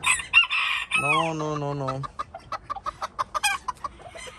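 A Silver Campine rooster crows once loudly and close, then a run of short rapid clucks follows from the flock of hens, with a brief spoken word at the start.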